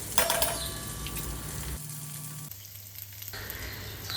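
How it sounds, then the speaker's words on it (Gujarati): Bitter gourd curry sizzles in hot oil over a low gas flame as cashew halves and raisins go in, a steady close frying crackle with a few light clinks of the pan and spoon. "હવે તેમાં 8 થી 10 કાજુના બે ફાડા કરીને નાખવાના છે અને 2 ટેબલસ્પૂન જેટલી સૂકી દ્રાક્ષ નાખવાની છે."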